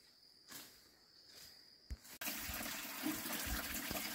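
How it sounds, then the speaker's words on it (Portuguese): Water running out of a pipe at a wattle-and-daub ranch, starting abruptly after a faint insect-like chirping and then flowing as a steady, fairly close rush. "A água já tá normal caindo, ó."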